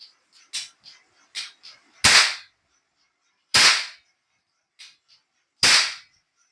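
A Chinese toy cap gun fires with three loud, sharp cracks spaced a couple of seconds apart, mixed with quieter clicks and small snaps from the trigger mechanism.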